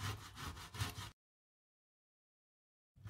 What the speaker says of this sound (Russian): Все продукты натираю на крупной терке, и свеклу,